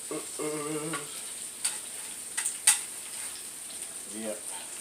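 Red organic potatoes frying in a pan, a steady bright sizzle with a few scraping, clinking stirs of a utensil against the pan, close, with brief speech at the start and end.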